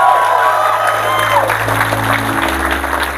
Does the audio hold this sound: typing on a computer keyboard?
no